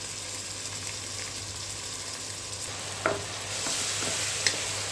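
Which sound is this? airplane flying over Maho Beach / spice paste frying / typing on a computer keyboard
spice paste frying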